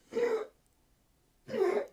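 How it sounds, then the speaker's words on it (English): Two short bursts of coughing or throat clearing, separated by about a second of quiet, close and fairly loud. "He's coughing."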